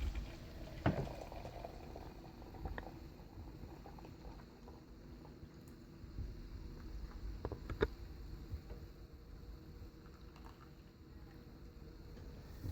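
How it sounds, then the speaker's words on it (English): Hot water is poured into a Perfecta tea brewer, a quiet bubbling, trickling flow with a few small clicks and knocks, close by and without speech. "I'm going to pour our hot water into our Perfecta."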